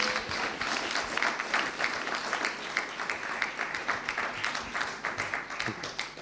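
Audience at a general assembly clapping together, a fairly faint, steady patter of many hands in a large room, with a few individual claps standing out, continuing evenly throughout.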